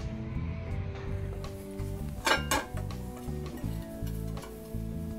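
Ceramic plates clink and knock together in a few light, close contacts over a low steady background hum.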